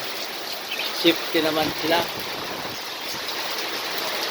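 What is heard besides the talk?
heavy rain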